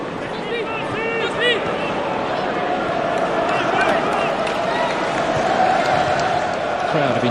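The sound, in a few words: football stadium crowd, volume dropping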